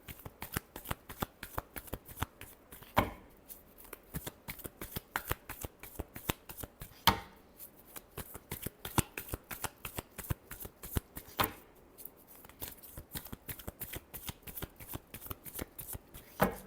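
Tarot cards are shuffled by hand in quick, repeated riffling bursts, close and crisp, with short pauses between runs and no talking.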